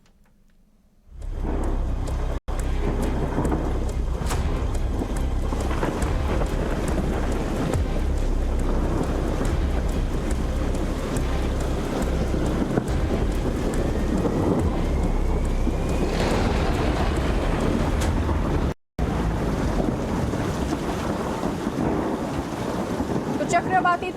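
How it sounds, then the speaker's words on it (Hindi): Loud, steady roar of storm wind and churning sea waves from Cyclone Biparjoy over the Arabian Sea, a continuous blustery rush with wind buffeting the microphone throughout and a brief dropout near the end. "अरब सागर में उठा चक्रवात तूफान अब गुजरात की ओर तेजी से बढ़ रहा है"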